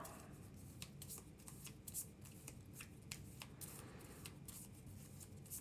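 Marvel Champions cards being shuffled into a deck by hand on a tabletop: a steady run of riffling, papery flicks and soft slaps throughout, fairly close and moderately loud, with no talking.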